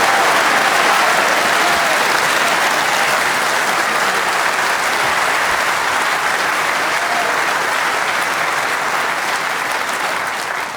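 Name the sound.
snooker crowd applauding a positional shot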